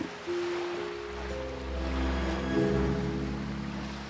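A boy plunging into the sea, with a steady wash of water and surging waves, a deep rolling swell that builds midway and continues loud and close throughout, no voices.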